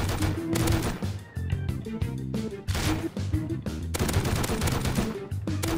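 Dense automatic gunfire in the survival game Rust, rapid loud bursts of rifle shots nearly continuous with brief gaps, close and harsh.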